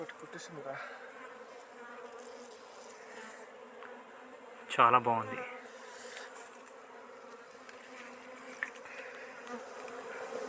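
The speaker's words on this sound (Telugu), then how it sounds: "చూసారా తేనెటీగలు ఎలా ఉన్నాయి" A steady swarm of honeybees buzzes continuously around a wild hive in a forest, with a person speaking briefly partway through.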